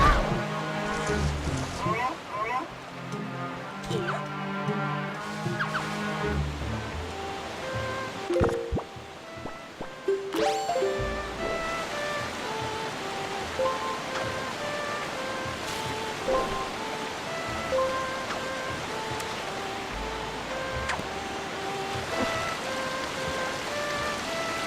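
Rushing water from a waterfall in the video game The Legend of Zelda: Wind Waker hisses steadily like heavy rain, with musical notes and a voice speaking over it.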